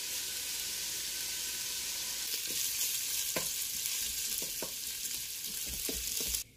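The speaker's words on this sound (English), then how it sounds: "spread my bacon out like this. And then I'm going to leave it alone so that it can sear real nice at the bottom" Bacon sears in a Ninja Foodi, a steady close hiss of fat frying throughout with occasional small pops and crackles, no voices, cutting off abruptly at the end.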